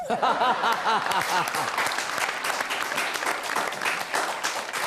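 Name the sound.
audience applause at a poetry recital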